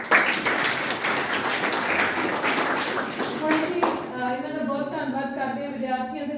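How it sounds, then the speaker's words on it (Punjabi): An audience at a Ramgarhia College event applauds Mohi ji with dense, sustained clapping for several seconds that then fades as a voice begins speaking. "ਮੋਹੀ ਜੀ ਹੋਰਾਂ ਲਈ ਬਹੁਤ ਤਾੜੀਆਂ"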